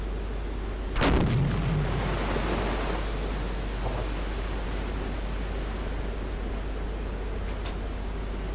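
In the Silent Hunter 4 video game, a 4-inch deck gun fires a single heavy boom, then a long rumbling roar of sea and wind, with no one talking.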